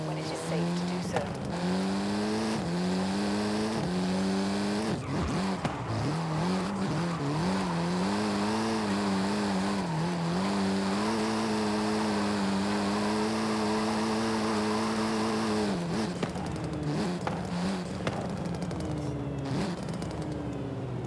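Volkswagen Golf R engine in Forza Horizon 5, revving hard on a drift-tuned build. The engine note holds loud and steady, climbing and dipping through gear changes, with brief tire squeal as a voice talks over it.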